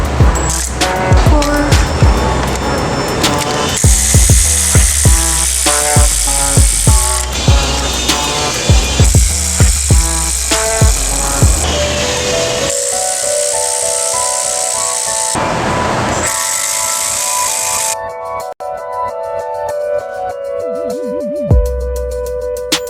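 Ratchet and tools tightening supercharger bolts on a Camaro ZL1 during a Kong X ported supercharger install, rapid clicking and clattering bursts up close with mechanical whirs throughout.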